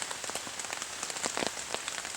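Steady rain on a rainy morning at a campsite, a dense close hiss of drops pattering on surfaces with scattered louder splats, continuous and unbroken by talk.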